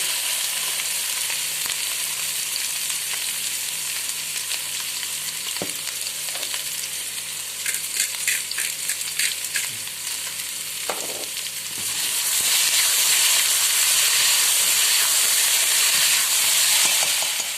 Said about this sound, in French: on commence à entendre le chant de la nourriture